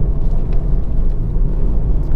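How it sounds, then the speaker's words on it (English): A 2018 VW Golf GTD Estate diesel with a DSG gearbox gives a low, steady engine rumble inside the cabin, its synthesized Impreza-style tone heard continuously and fairly loud, with no talk over it. "just give you that sort of fake Impreza type noise"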